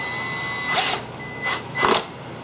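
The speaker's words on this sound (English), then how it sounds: "just drop down the Phillips head screws" A power driver tightens Phillips head screws on a compressor valve plate, three short whirring bursts close by with brief pauses between them, over a quiet background hum.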